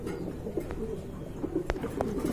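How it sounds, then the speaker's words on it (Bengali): Jet black pigeons coo in low, soft repeated murmurs close by, with a few sharp clicks and rustles among them. "একদম জেড ব্ল্যাক কবুতর, মাশাআল্লাহ।"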